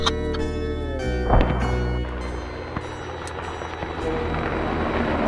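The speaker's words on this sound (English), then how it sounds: "Helicopter coming right to you." A video game helicopter's rotor thrum and engine whine fill the scene as it approaches, loud and close, with a few sharp bangs and clatters mixed in, no voices.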